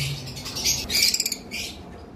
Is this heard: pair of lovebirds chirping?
yes